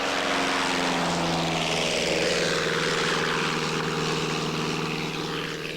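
A propeller airplane drones loudly and steadily close by, its engine note holding a strong hum with a broad rushing wash that sweeps through the middle, then eases slightly at the end.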